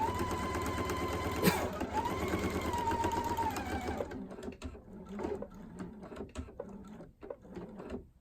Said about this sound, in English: I'll just sew along here and end at a 1/4 inch away from the edge of the quilt